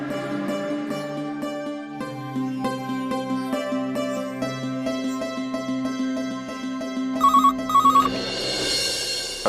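Telephone ringing in a steady repeating electronic ring pattern, clear and close, ending with a short burst of brighter beeps and a hissy crackle, no voices.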